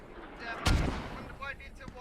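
Mortar fire in a tactical multiplayer video game: a single heavy boom lands near the start, then fades under muffled, indistinct voices.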